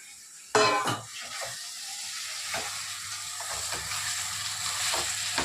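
Masala for a Sunday mulakaya mutton curry sizzles in a hot pan, a loud burst as it hits the oil, then settling into a steady crackling fry with occasional stirring scrapes, no voices.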